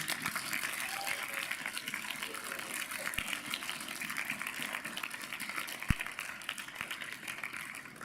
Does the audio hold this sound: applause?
yes